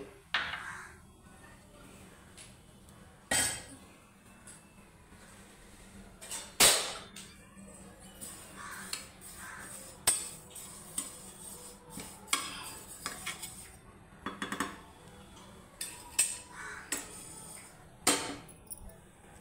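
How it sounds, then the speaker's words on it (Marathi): White sesame seeds dry-roasting in a pan: a faint crackle under repeated scrapes and clinks of a spoon stirring against metal, irregular and fairly close. "सगळ्यात आधी तीळ व्यवस्थित भाजून घ्यायचे"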